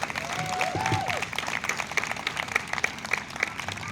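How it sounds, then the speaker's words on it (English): Audience applause fills a room at a memorial event honoring victims and survivors of gun violence, steady dense clapping throughout with a brief voice or tone near the start. "Please give her another round of applause."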